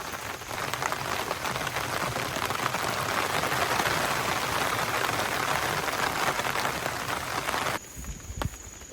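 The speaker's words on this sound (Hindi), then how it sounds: "अभी बारिश फिर से स्टार्ट होगी जोर जोर से" Heavy rain pours down on a campsite during a thunderstorm, a loud, continuous hiss of drops on surfaces that drops back slightly near the end.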